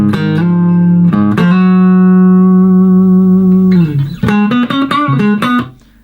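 An electric guitar plays a solo phrase from a song, with long sustained notes, a bend down, then a quick run of shorter notes before fading out.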